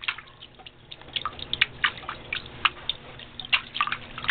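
Water is poured and drips during a pet's bath, with a quick, irregular patter of close splashes and drops that rises and falls over a few seconds.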